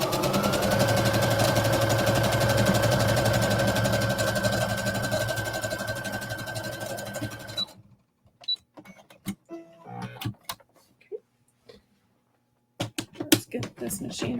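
A sewing machine runs a gathering stitch, a steady mechanical whir with a rhythmic buzz for about eight seconds that then stops, followed by quiet handling clicks and a voice talking.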